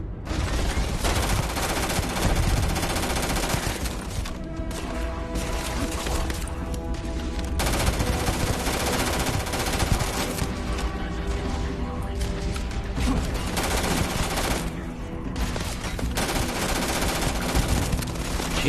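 Sustained automatic gunfire from Starfield video game combat, dense rapid bursts running nearly continuously at steady loudness with only brief pauses, under occasional faint talk.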